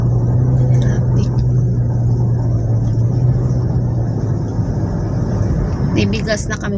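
Road traffic in the rain on a rural trip, a loud steady rumble of passing vehicles with a low engine drone, a person speaks briefly over the noise.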